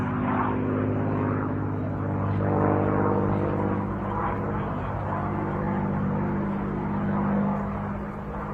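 A propeller airplane performing a four-point roll at a military air show at Hill AFB, its engine a steady loud drone that swells and fades slightly throughout.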